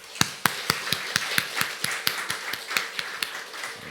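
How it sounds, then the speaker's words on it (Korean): A church congregation claps in unison for teachers on Teachers' Sunday, about fifteen sharp, evenly spaced claps in a steady rhythm with no talk. "큰 박수로 한번 격려해 주시기 바랍니다"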